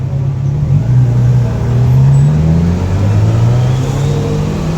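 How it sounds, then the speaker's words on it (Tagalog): Steady road traffic rumbles past a roadside hangout spot in Taiwan, with car engines droning and swelling as vehicles pass nearby, continuous and fairly loud with no talking. "ugong ng sasakyan"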